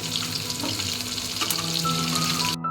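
Fish frying in oil in a home kitchen pan, a loud continuous close sizzle and crackle that runs steadily before cutting off abruptly at the end.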